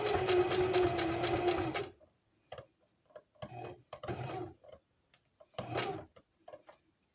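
A sewing machine stitches a seam: a fast, steady mechanical run up close for about two seconds, then short stop-start bursts of stitching separated by quiet pauses.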